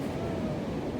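Ocean surf on an Atlantic beach, a steady low roar of breaking waves with wind rumble across the whole second, close and fairly loud with no clear voices.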